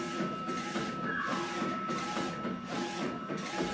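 DTF printer running nearby, its print head sweeping back and forth in a steady rhythmic whir with regular mechanical hiss and faint clicks, no voices.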